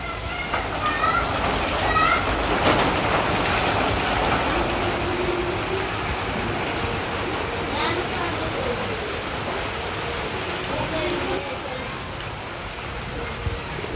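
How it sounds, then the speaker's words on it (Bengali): Rain falls steadily in a rural village, a dense continuous hiss of drops on surfaces at moderate loudness, with faint bird calls and occasional voices in the background. "এই তো বৃষ্টি শুরু হয়ে গেছে।"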